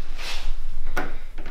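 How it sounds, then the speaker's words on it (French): In an abandoned house, a door is pulled open with a brief scraping rub followed by a sharp knock or clunk. The sounds are close and loud over a steady background hiss. "je vais donc ouvrir la porte"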